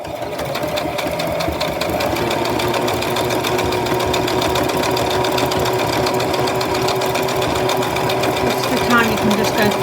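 A sewing machine runs steadily throughout, stitching a decorative fancy pattern around flower shapes on fabric for an art doll, with a continuous whirring hum at close range while a voice speaks over it.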